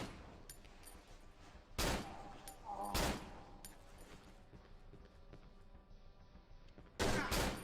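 Gunfire in the horror video game Cry of Fear, three loud sharp shots spaced apart over a low continuous game ambience.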